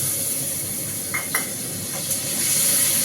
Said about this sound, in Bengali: আদা বাটা দিয়ে দিলাম।